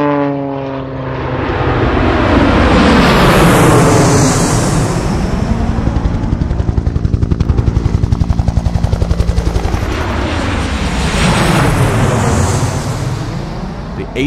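Library aircraft sound effects: a propeller plane roars past with a rising and falling engine pitch, a rapid burst of machine-gun-like rattling in the middle, then another loud pass, close and powerful with no voices.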